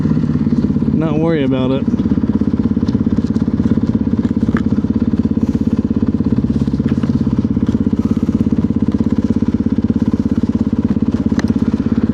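A motorcycle fitted with a Rekluse auto clutch sits stopped at traffic lights, its engine idling in a steady, loud close rumble throughout while someone talks briefly over it.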